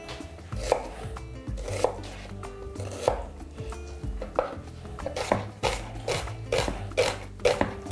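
A medium onion is finely chopped with a knife on a board. Crisp chops land close up at a steady rhythm of roughly one per second, with no talking.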